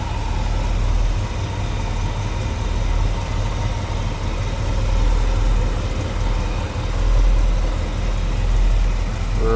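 A warmed-up 1968 Chevrolet Chevelle convertible idles smoothly, its engine a steady, close, continuous low rumble with no talking over it.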